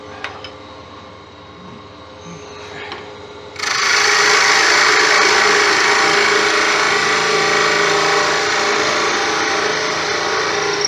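After a few seconds of quiet workshop hum, a power sander suddenly starts on a crossgrain tigerwood snowman spinning on a woodturning lathe, giving a loud, steady abrasive rushing that continues to the end.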